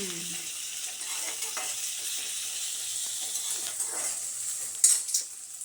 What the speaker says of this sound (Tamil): இஞ்சி பூண்டு பேஸ்ட் எடுத்து அதை என்ன பண்ணணும் நல்லா மிக்ஸ் பண்ணிக்கணும் வெங்காயத்தோடு போட்டு நல்லா பச்சை வச போகிற அளவுக்கு வணக்கிக்கணும்